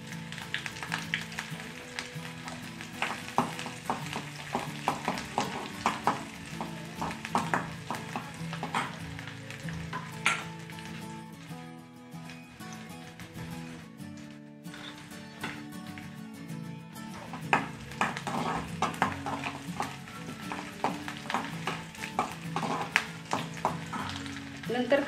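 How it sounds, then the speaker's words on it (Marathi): Finely chopped green chilies fry with garlic in a pan, giving a steady soft sizzle with scattered crackles and occasional stirring scrapes throughout. "बारीक मिरची टाकून घेऊ।"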